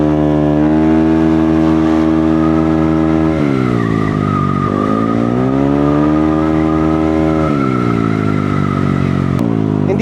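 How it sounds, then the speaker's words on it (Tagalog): A car passing close on a street in the Philippines, its engine note holding steady and then shifting pitch and swelling as it draws nearer, with a loud continuous roar and no talk. "Dire-diretso pa rin yung sasakyan na parating."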